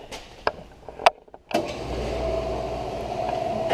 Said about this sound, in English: And now I'm going to start my machine up.